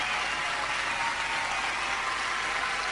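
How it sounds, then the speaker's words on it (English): Dense, sustained applause fills a live concert hall as an audience gives a standing ovation, a steady wash of many hands clapping with no voices over it. "Standing ovation."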